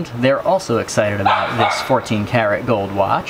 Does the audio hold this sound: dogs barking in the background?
yes